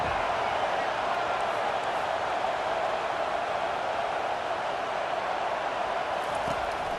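A stadium crowd in the College Football 25 video game roars as a loud, continuous wash of noise at a South Carolina Gamecocks away game at Ole Miss, running under a commentator's voice.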